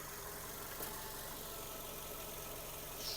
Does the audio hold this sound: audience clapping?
no